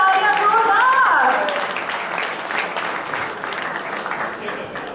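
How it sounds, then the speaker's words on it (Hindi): Audience applause at an on-stage event, loud dense clapping that swells at first and then eases to a steadier, softer patter, with voices talking over it. "तालियां जोरदार।"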